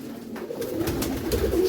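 Pigeons cooing inside a loft, soft low rounded calls repeating close by, growing a little louder and denser as they continue.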